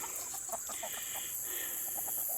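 Chickens in a backyard flock give a string of soft, irregular clucks, faint and somewhat distant, over a constant high outdoor hiss.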